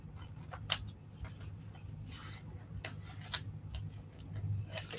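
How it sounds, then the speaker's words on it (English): Scissors snip out a small mushroom-shaped Halloween transfer for glass, a run of quiet close blade clicks and paper rubs at an uneven pace over a low steady hum. "Cut out this little mushroom guy"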